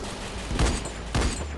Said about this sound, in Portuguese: Estão tá atirando em mim, filho.